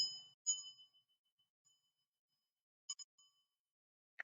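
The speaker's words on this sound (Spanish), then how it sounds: "quizás con la vibración, quizás con la lejanía o la cercanía de esta campana de metal" A metal meditation bell rings out clearly, its long shimmering tone fading, followed later by two fainter, softer strikes near the end of a quiet stretch.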